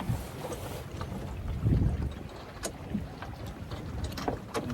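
An O'Day Daysailer sailboat runs downwind on a broad reach, with steady wind rushing over the microphone, water sloshing against the hull and occasional small creaks and knocks from the rigging, continuous and close.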